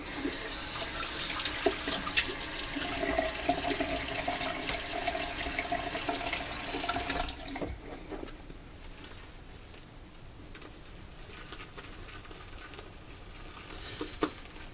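Water runs steadily from a bathroom tap into a sink during a wet shave, then shuts off about halfway through, leaving quiet handling noises and a few light clicks.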